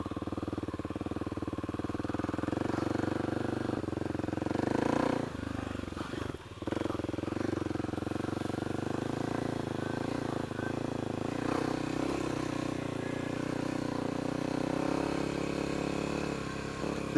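A Kawasaki KLX300 dual-sport motorcycle engine runs steadily near a river, a continuous low mechanical drone that holds at an even level throughout with a brief dip partway, close to the microphone with no talking over it.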